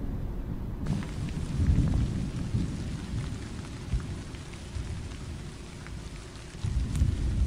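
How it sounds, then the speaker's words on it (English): Heavy rain pours steadily with low rumbling thunder rolling underneath in the horror game Tsugu No Hi, a loud continuous wash of rain and deep booming that swells toward the end, no speech. "Rain again."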